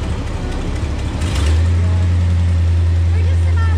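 Engine of a lowered crew cab Squarebody dually truck, rumbling nearby and then jumping to a louder, steady high-rev drone that holds to the end, with people talking over it.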